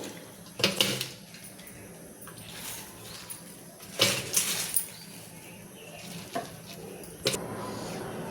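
A cooking pot clanks in a home kitchen as spinach is set on to boil, with a few sharp metal knocks and dish clatter spread over a quiet background hum.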